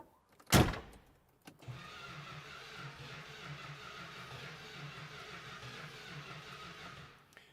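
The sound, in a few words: Dodge Hemi Daytona engine start attempt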